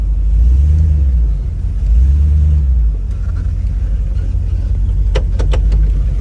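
A 1957 Chevy Bel Air two-door sport coupe restomod rumbles nearby, its deep engine note swelling twice before settling into a steady low drone, with a few short clicks near the end.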